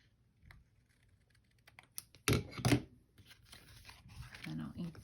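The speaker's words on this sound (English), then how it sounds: "So, I turn this around and cut it." Scissors cut through several layers of paper for a stash journal, giving a few short, crisp snips close by in an otherwise quiet room.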